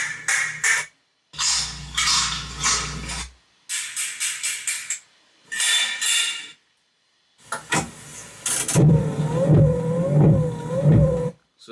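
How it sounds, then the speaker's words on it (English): A car starting sound effect from a hip-hop sample pack plays loud and close: several choppy bursts of engine cranking separated by silences, then the engine catches and settles into a pulsing idle. "Car starting."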